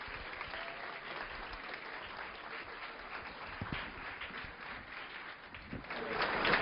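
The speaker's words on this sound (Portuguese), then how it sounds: "Um aplauso." Steady applause from a lecture audience welcoming the speaker, many hands clapping continuously and evenly throughout, rising slightly toward the end.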